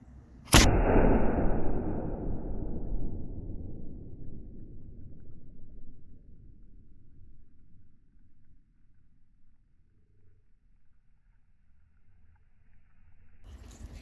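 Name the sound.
real cannon firing at revolutionary war anniversary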